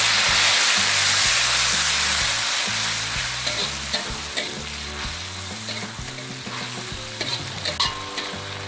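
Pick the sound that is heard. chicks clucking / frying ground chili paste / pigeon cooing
frying ground chili paste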